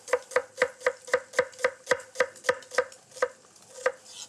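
A knife chops through an onion on a cutting board in a quick, even run of about fifteen crisp, close cuts that slow slightly toward the end, with no talking.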